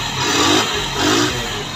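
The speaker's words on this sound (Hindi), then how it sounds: "तो इसके लिए बाइक स्टार्ट करनी पड़ेगी। अभी मैं स्टार्ट कर रहा हूँ" A motorcycle engine starting during a battery charging check, catching and revving in two surging swells, close and loud, then settling into a rough idle with no speech over it.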